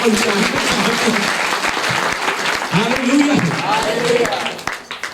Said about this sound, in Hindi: ताली बजाइए आपके पास्टर